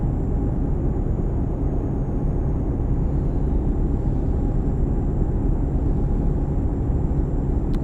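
Heavy continuous low rumble in American Truck Simulator near Birmingham on the I-20, read as airplanes flying overhead, a dense steady drone that stays loud and even throughout with no talk.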